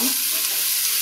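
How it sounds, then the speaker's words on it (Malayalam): Chopped onions hiss in hot oil in a pan while being browned for egg biryani, a dense continuous sizzle, loud and close, over a very brief stretch. "സവാള ഇട്ട് കൊടുക്കാം. സവാള നല്ലപോലെ ബിരിയാണിക്ക് ഫ്രൈ ആവണം."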